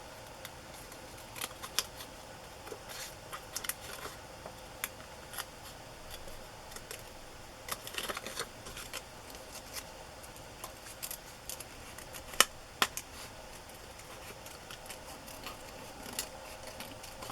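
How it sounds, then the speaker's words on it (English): Scissors snipping paper for a glue book collage, faint scattered clicks and cuts over a low steady room hiss, close and quiet, with no talking. "I have to do some more cutting inside."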